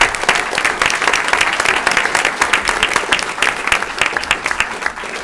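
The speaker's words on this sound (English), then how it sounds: "Let's give them a round of applause." Audience applause at a school district board meeting honoring high school teams, a dense, steady wash of many hands clapping that stays loud throughout with no pauses.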